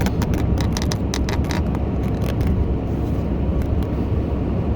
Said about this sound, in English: as I drive to town.